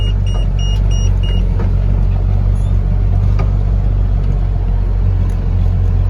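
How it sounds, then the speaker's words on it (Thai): Six-wheel truck climbing a gentle hill on a rough, potholed road, its engine a loud, steady low rumble throughout with small knocks and rattles on top, and no talking. "มาดูหกล้อขึ้นเนินครับ"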